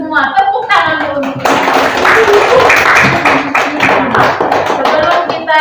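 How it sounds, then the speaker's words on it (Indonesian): Many children clap together in a loud, rhythmic burst that swells and keeps going, with young voices calling out over it, in a classroom. "Tepuk tangan dulu."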